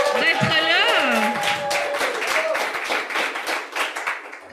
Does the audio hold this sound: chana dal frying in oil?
no